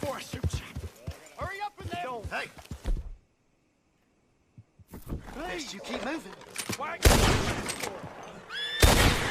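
Gunshots ring out in a Red Dead Redemption 2 countryside scene, sharp cracks spread through the clip, with a louder burst near the end. Someone talks over most of it and there is a short silent gap partway through.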